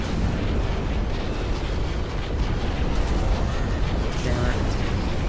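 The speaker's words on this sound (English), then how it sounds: "I've seen these giant explosions" Dense, roaring blasts and rumbling booms of giant explosions in Ashes of the Singularity: Escalation pile over one another continuously, with a voice partly buried under the chaotic noise.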